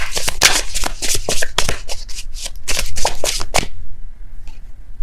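Tarot cards are shuffled and riffled in quick, crisp flurries close up, ending with a few softer taps before near silence.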